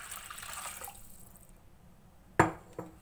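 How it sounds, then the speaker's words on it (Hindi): Water splashes into a bowl while a sattu drink is being made, a faint trickle followed by two short splashy pours close by, with no talking. "और उसमें तकरीबन दो गिलास पानी डालेंगे"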